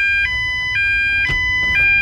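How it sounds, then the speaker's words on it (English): Loud electronic fire alarm siren cycling between two tones in a regular repeating pattern, about every half second, with faint background noise. "It was a fake fire alarm."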